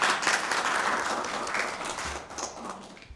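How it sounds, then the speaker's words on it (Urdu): An audience applauds a speech at a Lent season program on Christian fasting at a girls' college, with steady, dense clapping that fades slightly over a few seconds. "تو ہم سب مل کر ان کے لیے تالیاں بجاتے ہیں"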